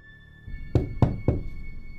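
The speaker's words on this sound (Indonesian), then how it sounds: "Montir Bram mengetuk-ketuk kaca mobil, membangunkan Bram dari lamunannya." A mechanic raps three times on a car's window glass. The knocks are sharp and evenly spaced over a low hum inside the car.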